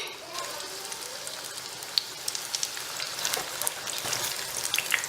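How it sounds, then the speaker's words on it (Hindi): Egg pakoras deep-frying in oil heated over a medium-high flame produce a dense, steady crackling sizzle with fine popping bubbles, close and continuous. "और अब हम अपने पकौड़े इसमें डालेंगे"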